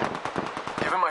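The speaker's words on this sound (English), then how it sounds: "Opening fire." Rapid automatic weapon fire in the video game Destiny 2, a close, loud burst of shots running steadily through the moment over a dense, busy game mix.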